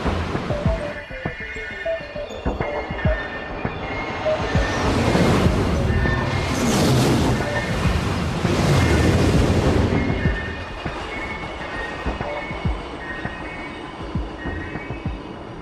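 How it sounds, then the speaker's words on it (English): A maglev train runs along its track, a broad rushing roar that swells to a loud peak midway and then eases back. No one speaks over it. "We've developed the maglev with a top speed of 500 kilometers an hour for commercial use."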